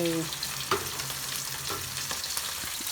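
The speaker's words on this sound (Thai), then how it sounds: "ทอดไข่" Eggs fry in a pan with a steady close sizzle and crackle, a few sharper pops and clinks rising over the hiss; no one speaks.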